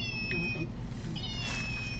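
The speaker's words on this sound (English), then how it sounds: "It meows." A gray rescue cat at a feline rescue centre gives two short meows under a steady background rumble, with people chatting quietly nearby.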